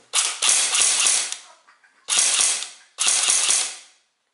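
An ASR 111 airsoft replica fires three loud, close bursts, each a rapid rattling stream of shots lasting about a second, separated by brief pauses.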